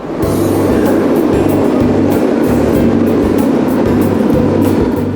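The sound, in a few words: Paris RER commuter train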